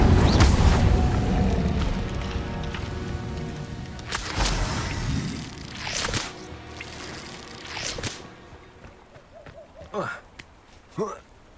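Incendio fire spells are cast in Hogwarts Legacy, with a roaring, crackling burst up front and then several sharp whooshing flares spaced a couple of seconds apart against game ambience.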